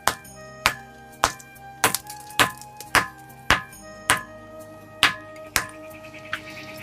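Rocks of Jhunjhunwa hill in Aurangabad struck with a stone, a run of about a dozen crisp, evenly spaced knocks, each ringing with a clear metallic tone that differs slightly from strike to strike, close up and without talk.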